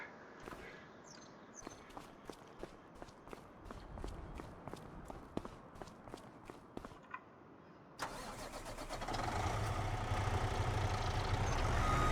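Truck engine in Farming Simulator 25 cranking and catching, then settling into a loud, steady run that swells further toward the end, preceded by a series of sharp clicks and footsteps.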